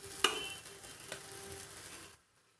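Chicken pieces being stirred with masala spice powder in a pan for Andhra-style Guntur chicken, a soft scraping with a sharp utensil clink near the start over a low sizzle, ending abruptly in silence.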